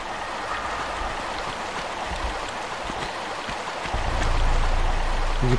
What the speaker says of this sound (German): Hier ist wieder der schöne Wasserfall.